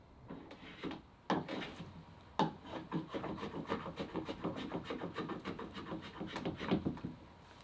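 Wooden boat planking being trimmed with a hand tool, a run of dry scraping and rasping strokes, sparse at first then quickening into a steady rhythm, close and fairly quiet with no talk.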